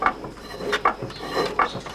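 A rudimentary wood-turning lathe mechanism clacks and ratchets as it runs while a wooden jug is turned, with a repeating rhythm of sharp wooden knocks and rubbing strokes close by.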